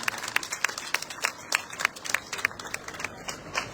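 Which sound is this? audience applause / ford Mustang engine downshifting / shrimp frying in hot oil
audience applause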